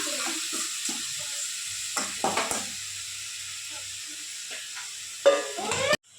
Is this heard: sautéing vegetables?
yes